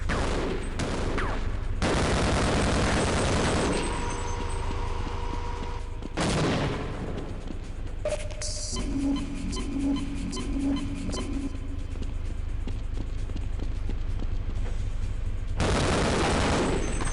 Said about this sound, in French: Je vais tirer dessus